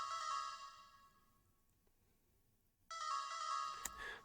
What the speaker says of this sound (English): So I went to Serum again looking for like a plucky sound.